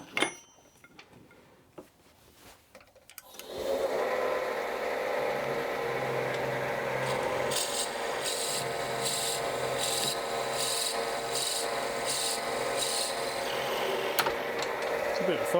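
A step drill bores and reams wood for bagpipe making, a few seconds of quiet handling giving way to a loud, continuous grinding whir with a rhythmic pulsing, and a voice faintly underneath.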